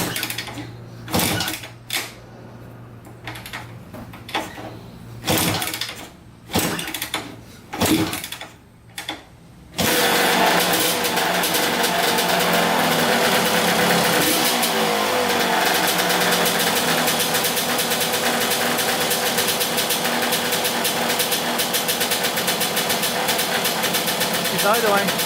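Kawasaki Tecate 3 250cc liquid-cooled two-stroke three-wheeler sputters through several short bursts as it tries to fire, then catches and settles into a loud, steady, buzzing idle that continues uninterrupted.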